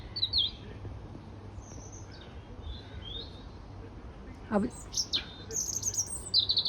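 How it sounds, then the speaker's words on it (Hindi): A small red robin perched on a branch gives thin, high chirps and short twittering phrases over a steady background hum, with a brief spoken word partway through. "यहाँ पे मैं आपको रेड रोबन दिखाने की कोशिश कर रही हूँ। वो देखिए बैठी हुई है, कितनी प्यारी लग रही है और कितना अच्छा चहचहा रही है।"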